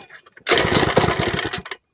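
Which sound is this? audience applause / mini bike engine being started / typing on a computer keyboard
mini bike engine being started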